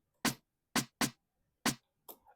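An extra snare drum sample in an Afro House beat, four sharp, crisp hits spaced unevenly and played dry and alone, followed by a softer, shorter tail hit at the end.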